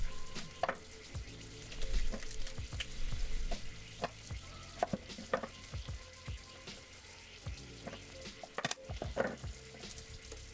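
Onion and garlic frying in a pan for a birria chili sauce, a steady sizzle crackle with frequent clinks and scrapes of utensils, fairly close and without talk.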